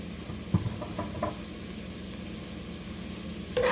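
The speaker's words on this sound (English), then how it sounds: "we just want to saute these to get it a little soft" Vegetables sauté in a pan for oyster stew, a low steady sizzle with a few soft clinks and taps of a utensil against the pan, close and quiet throughout.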